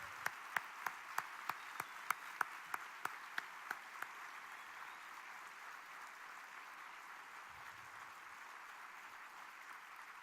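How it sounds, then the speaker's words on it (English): At the Medal of Honor Patriot Gala awards dinner in Knoxville, a run of evenly spaced claps fades out within a few seconds, leaving faint room noise; distant and quiet. "Let's give our color guard and Stephanie a big round of applause here"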